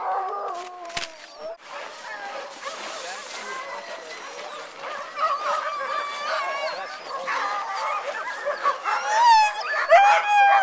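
Many sled dogs, about 72, bark and yelp excitedly at once, a loud, busy chorus with overlapping high yips and howls, mixed with people talking nearby.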